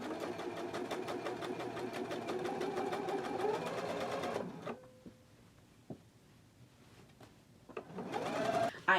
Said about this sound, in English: So I'm going to go ahead to the machine now and do that stitch.